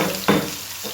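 Tomato goes into hot ghee with a sudden sizzling burst that settles into a soft, steady hiss, heard close up for about a second.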